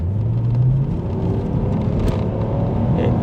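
A stock BMW E46 330ci with no exhaust fitted, its engine droning low and steady from inside the moving car, a continuous rumble with slight pitch shifts while driving on the road.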